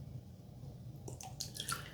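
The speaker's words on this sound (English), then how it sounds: "So let's squeeze out a little bit of water." A wet shaving brush is squeezed out by hand, giving a few short squishing, dripping bursts of water in the second half over a steady low background hum.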